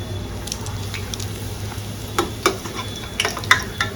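Puris frying in mustard oil, a constant close sizzle and bubbling with clicks and scrapes from a utensil growing busier toward the end, no talk.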